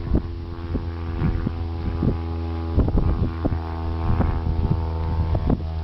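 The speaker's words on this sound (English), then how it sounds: "comes an aircraft." An aircraft passes overhead at an old WWII gun bunker site, a steady low throbbing drone mixed with gusty wind buffeting the microphone.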